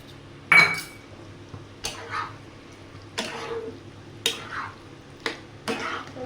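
A cornflour slurry is stirred into dry chilli chicken in a pan over high flame. About six distinct clinks and scrapes of the spoon against metal come at a slow, uneven pace over a faint background hum.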